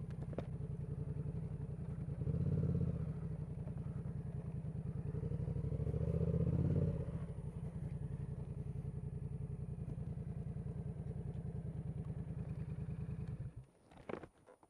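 A motorcycle engine runs steadily and loudly nearby as the bike rides over rough ground, swelling twice with more throttle, then cutting off near the end.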